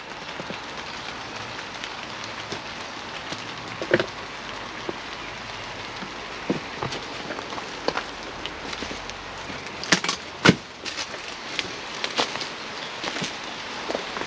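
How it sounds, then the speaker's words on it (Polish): Heavy rain pours down around an abandoned brick-factory owner's villa, a steady dense hiss with scattered sharper drips and taps that land close by, and no voices over it. "Zaczyna padać deszcz."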